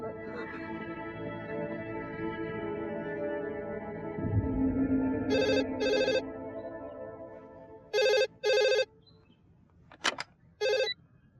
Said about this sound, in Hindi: प्रेरणा, कब से फोन कर रही हूँ, उठाती क्यों नहीं?